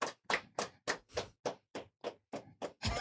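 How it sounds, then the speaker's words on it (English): About a dozen sharp, evenly spaced hand claps, a studio applause, close and loud with short silent gaps between each clap. "get a studio applause?"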